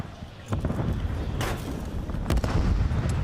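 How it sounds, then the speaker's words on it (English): Distant frag grenade explosions in a Call of Duty League match, with a few broad muffled booms at about half a second, one and a half and two and a half seconds over a steady rumbling battlefield wash. "that's a lot of explosions in the distance. That's going to be the frag grenades"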